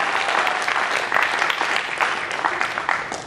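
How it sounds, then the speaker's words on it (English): An audience at a Kiwanis Idol audition show claps for the event's sponsors: dense, even applause fills the hall, loud and unbroken for a few seconds. "So a round of applause, please, for all of our great sponsors."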